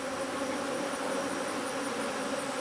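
A swarm of bees makes a steady, dense buzzing drone that stays even throughout, fairly faint and close, with no talking.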